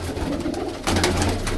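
Pigeons coo at a pigeon sale in Pakistan, soft throaty burbling calls repeating close by over a low background hum.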